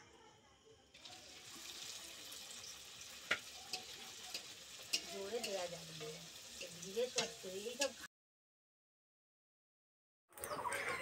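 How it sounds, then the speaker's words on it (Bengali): Mung dal kachoris deep-fry in hot oil in a village kitchen, giving a steady bubbling sizzle with occasional stirring knocks. The sound cuts to silence for about two seconds, then the frying returns. "একই রকমভাবে সবগুলো কচুরি আমি ভেজে নেব।"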